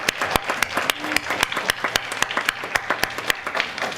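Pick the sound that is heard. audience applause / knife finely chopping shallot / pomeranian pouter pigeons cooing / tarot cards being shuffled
audience applause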